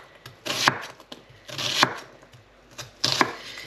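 Onions being chopped on a cutting board for a Devonshire pork and cider stew, three close bursts of rapid knife strokes separated by short pauses, with no voices.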